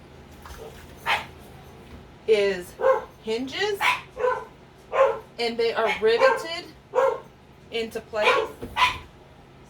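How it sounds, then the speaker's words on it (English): Several dogs bark and yip indoors in rapid, uneven bursts, loud and close, overlapping a person speaking. "Sorry about my dogs."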